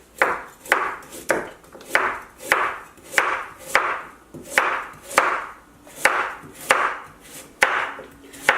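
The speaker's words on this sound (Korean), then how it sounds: "썰어주시고, 당근은 채 썰어주세요" A knife julienning carrots on a cutting board for picnic gimbap, with about a dozen crisp, evenly spaced chopping strokes roughly every 0.6 seconds, close and clear, no voices.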